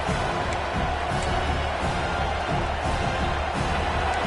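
Stadium crowd in a college football video game roaring steadily during a fourth-down stand, a dense wall of cheering with no break, heard at moderate loudness.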